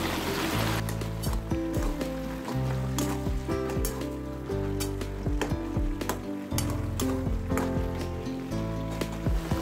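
Tomatoes and chillies tipped into a hot pan of mixed vegetables, giving a steady loud sizzle with stirring clatter and a few sharp utensil clinks throughout, no talk.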